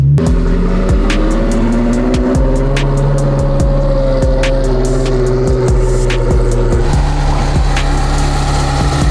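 Ferrari 360 with a gated manual conversion running on the road, its engine note loud and continuous with rising and falling harmonics through gear changes and sharp clicks or knocks scattered throughout.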